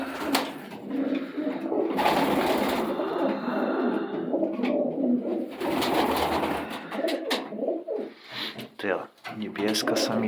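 Pigeons coo and murmur steadily throughout in a loft, with a person talking in Polish over the birds for much of the time.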